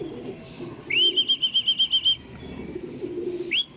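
A racing pigeon hen lands at the loft after a training toss in San Jose, Nueva Ecija, with a quick run of about nine rhythmic, whistling wing beats, then a brief second flurry.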